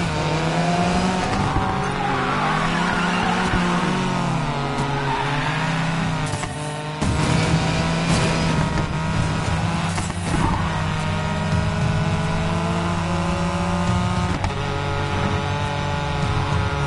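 Race cars roar and rev continuously through a video game race, with engine pitch rising and falling, brief tire squeals and skids, loud and close throughout.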